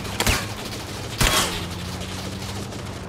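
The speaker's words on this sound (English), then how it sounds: "Are you firing or what?" Gunfire rings out in the PUBG: Battlegrounds video game, two short bursts of shots over a steady hum of game background noise, with no voices.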